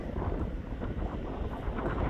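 Steady rushing wind buffets the microphone, a continuous low rumble with gusty swells throughout.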